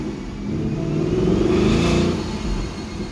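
Supercharged 2019 Mustang GT with a Vortech V3 blower revving hard in third gear on a chassis dyno, engine note rising steadily toward 6,500 RPM with a loud, sustained mechanical roar and whine, no talking.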